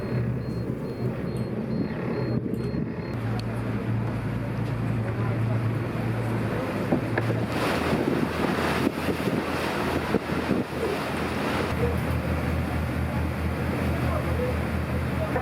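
A steady low engine drone of a boat cruising along the coast of Cyprus, with wind rushing over the microphone and a brief clatter partway through.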